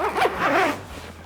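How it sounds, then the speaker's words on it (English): A stiff zipper on a Ninja FrostVault Go cooler bag is pulled shut in one quick, rasping close-up stroke lasting about a second. "The zipper is a little stiff on this upper section here"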